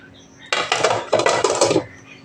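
A lid goes over a bowl of semolina batter, with a burst of close clattering metal-and-glass contact in two rattling clusters lasting about a second and a half, then quiet.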